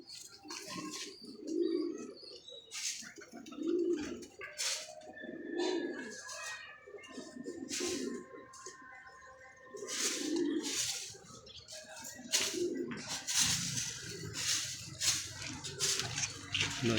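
Pigeons coo in soft, repeated rounded bursts roughly every two seconds, with brief sharper bird calls and faint splashing around them, close and steady with no talking.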